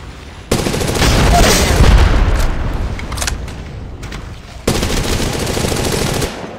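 Automatic weapon fire in the mobile battle royale game Apex Legends Mobile: two long, loud, dense bursts of rapid shots, separated by a brief quieter gap with a few scattered cracks and a short break.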